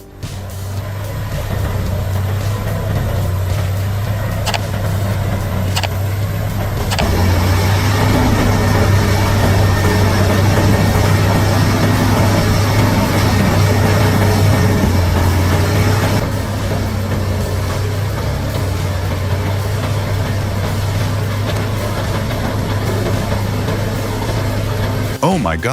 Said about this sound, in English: The CBI 5400 BT wood grinder, equipped with sharp cutting blades, harnesses the power of a massive diesel engine